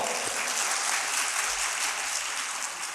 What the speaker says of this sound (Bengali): ওর জন্য একটা বড় একটা হাতে তালি দাও